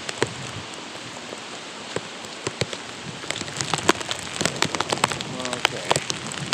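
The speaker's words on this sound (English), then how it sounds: "The rain's all going sideways." Heavy wind-driven rain in the aftermath of Hurricane Sally hisses steadily, with scattered sharp drops pattering close on surfaces and a faint voice briefly in the background.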